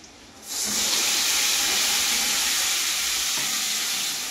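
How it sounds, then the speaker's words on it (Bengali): Spice paste sizzling hard in a hot pan with onions already fried red, a loud steady frying hiss that surges up after a quieter first half-second and holds without talk. "এবারে আমি খুব ভালোভাবে মশলাটা ভাজবো"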